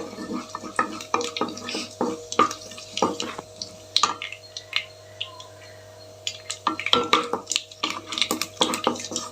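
Cumin seeds sputtering in hot oil for a spinach and soya chunk curry, giving irregular sharp pops and crackles with bursts of stirring and pan clatter over a steady low hum, close and fairly loud.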